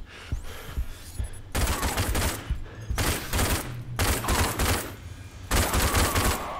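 Rapid bursts of automatic gunfire from a pulse-fire weapon in the RAGE first-person shooter, loud and close, coming in several sustained volleys separated by short pauses.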